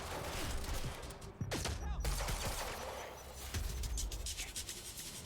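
An enemy's shotgun booms in the game Quantum Break, with several heavy blasts amid a continuous roar of battle noise, fairly loud and dense, without clear talk.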